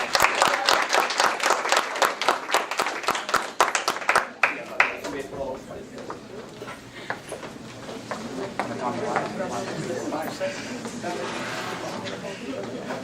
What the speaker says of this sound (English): Can we please have a round of applause for all our captains coming?